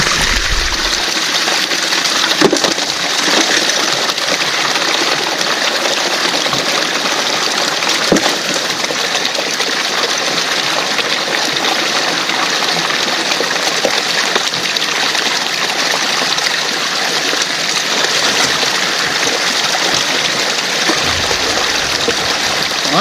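Water from a battery-powered pump gushes steadily over a gold panning setup, a loud continuous rushing and splashing that holds nearly unchanged throughout.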